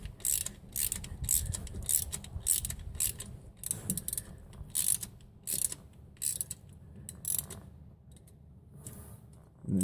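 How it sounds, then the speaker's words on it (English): Rapid ratchet clicks in bursts come from a ratchet cranking down a valve spring compressor on a Mopar 360 engine, a close, busy mechanical clatter with brief pauses between strokes. "you can actually use a ratchet on the top of it. And you just go ahead and crank down on the spring"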